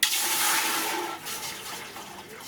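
Three litres of plain water are poured into a container to make neemastra, a steady, loud splashing gush that starts abruptly and runs throughout, with no talking.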